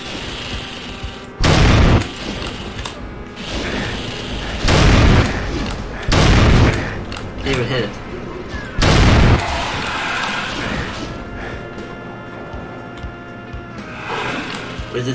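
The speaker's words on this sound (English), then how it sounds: "Grenades everywhere! It's our only choice!" Four heavy grenade explosions in the video game Doom, each a loud, sudden booming burst a second or two apart, over steady gunfire and game noise.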